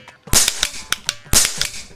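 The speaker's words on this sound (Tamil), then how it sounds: "நான் தான் ஃபர்ஸ்ட் சுட்டேன்." A toy cap gun fires during children's pretend shootout play on Diwali: two loud, sharp cracks about a second apart, each followed by a short rattling tail, close and dominant.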